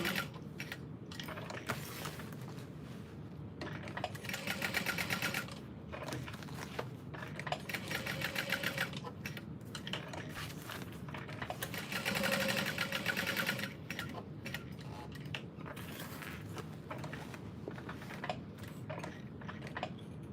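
A sewing machine top stitches overlay pieces onto a tote bag at a long stitch length, running in a steady rapid mechanical whir with brief pauses and speed changes, quiet and close, with no talking.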